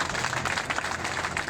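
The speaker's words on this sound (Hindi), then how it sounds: "साथियों तालियां रुकनी नहीं चाहिए।" Striking clerks and fellow protesters at an indefinite strike sit-in at the Nuh mini-secretariat clap steadily, producing a dense, continuous patter of hands from a nearby crowd with no voices standing out.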